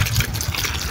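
Water gushes from a pipe into a stony hole dug outdoors in mud, a steady, close, splashing rush with no break.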